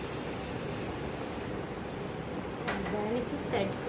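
Hairspray hisses in a steady, close spray over a party hairstyle being set, a continuous airy rush that fades slightly near the end while faint speech sounds come in underneath.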